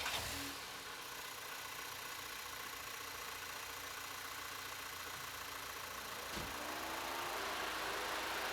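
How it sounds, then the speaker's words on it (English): A 2.0 TSI car engine idles steadily and faintly during a coolant flush, a continuous low hum with a slight change in tone partway through. "Start the engine."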